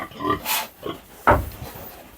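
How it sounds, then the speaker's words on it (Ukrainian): Pig in a farm pen giving several short grunts at moderate loudness, a first burst of grunts followed by a sharper, louder one about midway. "Давай, давай, свинюша. Давай. Не ругайся, не возмущайся."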